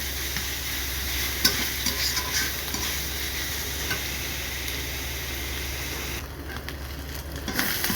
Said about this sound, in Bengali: এগুলো আমরা ভালো করে এখন তেলের মধ্যে কষিয়ে নেব।